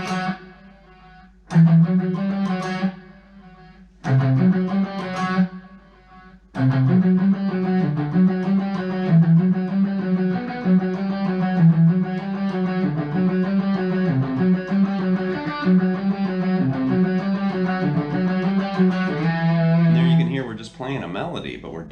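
Double-picked electric guitar interlude in E natural minor, a loud, dense stream of rapid repeated picked notes that starts after two short bursts separated by brief gaps, then runs steadily for about fifteen seconds before ending.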